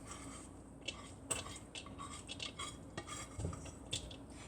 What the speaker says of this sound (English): In goes the rice.